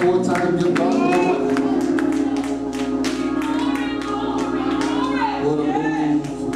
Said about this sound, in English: Come on, clap your hands one more time.